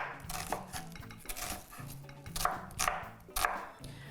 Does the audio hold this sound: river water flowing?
no